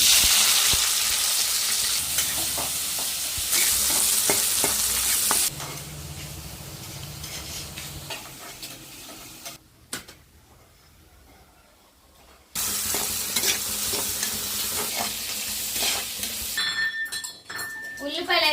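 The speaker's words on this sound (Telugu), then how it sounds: "నూనె అయితే బాగా వేడైంది కదండి పచ్చి ఉల్లిపాయలు వేసుకున్నా" Raw onions crackle and sizzle in hot oil in a home kitchen, a steady close frying hiss that fades for a few seconds and returns, with faint clinks at the end.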